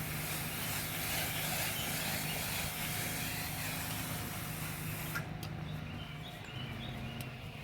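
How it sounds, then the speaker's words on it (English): A steady hissing spray runs continuously, then cuts off abruptly near the end, leaving a quieter background hum. "If you get a little closer, you turn to a fan spray."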